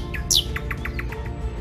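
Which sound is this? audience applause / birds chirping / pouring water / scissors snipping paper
birds chirping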